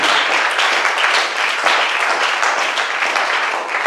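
An audience at a church gathering bursts into sustained applause, steady and loud from many hands clapping at once, with no pause across its length.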